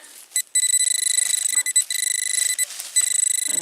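During a WW2-era metal detecting dig among leaves, a metal detector gives a high signal: a shrill, pulsing electronic tone that repeats in several close bursts with short gaps between them.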